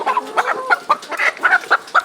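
A layer hen clucks while being held by a poultry farmer, a quick run of short, close, fairly loud clucks in an uneven rhythm with no talk over them.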